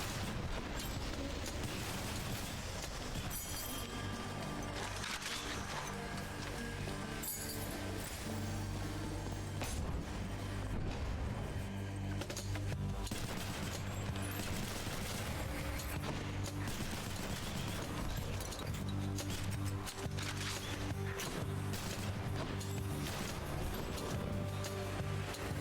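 A gun fires continuously in the video game Hades, its dense mechanical clatter and thumping shots layered over game music at a steady level throughout.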